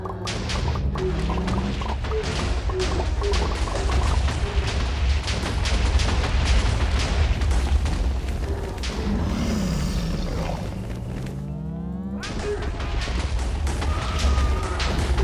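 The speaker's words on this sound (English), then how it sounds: "Maybe it is just randomly firing off shots." A Minecraft Stoneblock 2 mob firing off shots at random, with repeated booming, thudding blasts and sharp cracks over a constant rumbling game background, loud and ongoing, with a brief swooping tone near the end.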